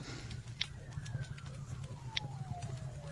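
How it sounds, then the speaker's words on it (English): A faint siren wails outside in the distance, one long falling tone beneath a low, steady rumble and scattered soft clicks. "Some sirens going on outside."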